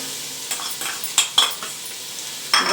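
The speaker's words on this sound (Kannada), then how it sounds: "ಈಗ ಇದನ್ನ ಚೆನ್ನಾಗಿ ಫ್ರೈ ಮಾಡೋಣ." Onions and beans for chicken fried rice fry in a pan, with a soft sizzle broken by a few sharp, close spatula scrapes and stirs at an uneven pace.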